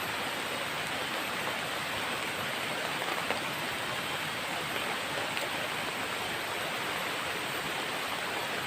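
Steady, heavy rain outdoors, a constant dense hiss of drops with no breaks or voices, even and fairly close throughout.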